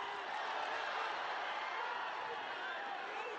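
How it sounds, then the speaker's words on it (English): A crowd at a women's MMA fight keeps up a loud, unbroken roar of cheering that fills the whole moment. "The crowd really making some noise here."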